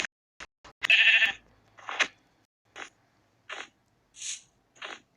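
A few short sheep bleats from the video game Minecraft sound in separate bursts with quiet gaps between them, clean and close.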